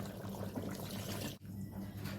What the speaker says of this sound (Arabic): بعد المكونات ما اتسبكت كده مع بعض هضيف بقى ميه